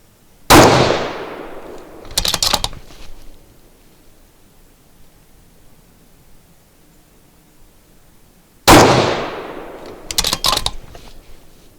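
A precision rifle with a new barrel, fitted with a Schmidt & Bender PMII scope, fires two loud, sharp shots about eight seconds apart, each followed a moment later by a short clattering of handling noise.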